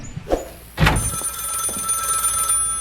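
A telephone rings in the video game Contraband Police: a thunk, then a sustained ringing tone that carries on steadily for a couple of seconds.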